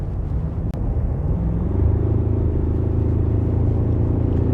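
The 2-litre engine of a Ford Ranger Raptor pickup truck rumbles steadily at close range, its low drone growing slightly louder after a brief click, with no voices over it.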